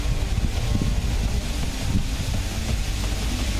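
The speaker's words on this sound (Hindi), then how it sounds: "यहाँ पर तूफान के आने से पहले ही तेज हवाओं के साथ साथ जोरदार बारिश शुरू हो गई है।" Strong cyclone winds roar steadily with buffeting rumble against the microphone, mixed with a dense hiss of heavy rain, constant and loud throughout.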